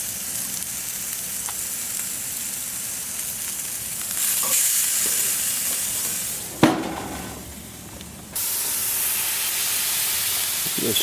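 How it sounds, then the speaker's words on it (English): Ginger shrimp sizzle and hiss on a Camp Chef Sidekick Deluxe grill box, a steady close frying sound with a brief clatter partway through and the sizzle swelling again afterward. "We'll go ahead and start the shrimp."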